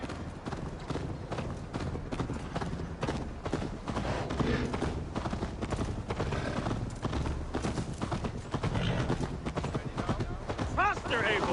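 Rapid, steady hoofbeats of a galloping horse in Assassin's Creed Valhalla pound on continuously, layered over rushing wind and a dense wash of game sound.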